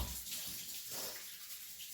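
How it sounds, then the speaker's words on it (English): Steady water running from a tap into a sink while a bottle is rinsed off, a continuous soft splashing hiss heard up close and alone. "Take it over to my sink and rinse it off real fast."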